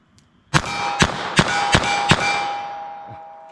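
Five sharp .32 S&W Long revolver shots from lead round-nose rounds, each followed by a ringing clang as the bullet strikes a steel target. The impacts come at an irregular, roughly half-second rhythm, loud and close, with the metallic ring lingering after the last hit.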